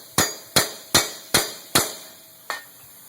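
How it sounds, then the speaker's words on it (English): Metal taps ring out on a front wheel bearing hub assembly of a 2003–2014 vehicle, five evenly spaced sharp clinking strikes followed by a softer sixth, close and clear with nothing else heard. "A little tap on the hub usually helps."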